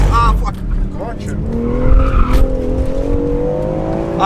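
A car accelerates hard and drifts around a track with traction control off, its engine note climbing over loud, sustained tire squeal and skidding, with excited voices shouting over the noise.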